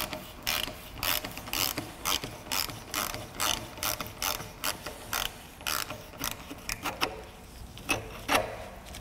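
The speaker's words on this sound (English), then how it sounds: "So I'm using a number 5 Allen socket on the struts." A hand ratchet turns a number 5 Allen socket on the rear strut of a 2004-2008 Acura TL, giving a steady run of close, crisp clicking bursts in a regular back-and-forth rhythm with no talk.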